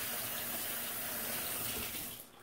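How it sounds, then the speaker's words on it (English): Water gushes steadily from a kitchen tap during handwashing. It sounds close and fairly loud, with no voices. "Let me wash my hands."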